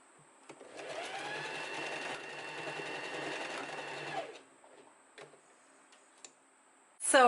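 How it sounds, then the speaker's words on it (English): Close-up whir of a sewing machine stitching fabric for a summer dress, one steady run of about three seconds with a mechanical ticking texture, followed by quiet handling clicks and a sharp noise at the end. "We're just going to sew this onto the fabric."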